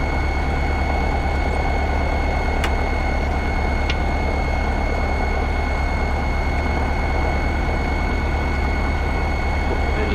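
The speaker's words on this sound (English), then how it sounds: "Engine shutdown." Light training aircraft engine idles at a steady, loud, close drone just before shutdown, an unbroken throb with a couple of faint clicks and no talking.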